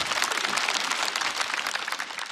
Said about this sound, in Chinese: 可以鼓掌，可以鼓掌啊